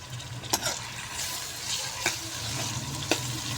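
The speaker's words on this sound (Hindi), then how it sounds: "अब इसको भी अच्छे तरीके से हमने मिक्स कर देना इसके अंदर और फ्राई करेंगे।" Tomatoes, green chilies, peas and turnip fry in a pan, a steady soft sizzle broken by three sharp utensil clacks as the mix is stirred.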